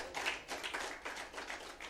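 Clapping rolls through a graduation ceremony audience in Kenya, a muffled, continuous patter of many hands at moderate distance, pulsing slightly in waves.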